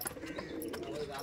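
Soft cooing and chirping from male pigeons of a Madrasi breed, black-eyed birds, heard faintly at close range with a steady low background hum.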